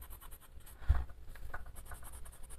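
A coloured pencil scratching on paper in a colouring book, soft close strokes with one firmer tap, faint and alone.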